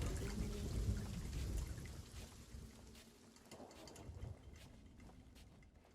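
A video game thunderstorm pours heavy rain with a deep thunder rumble early on, easing into a quieter, hissing downpour, all fairly faint.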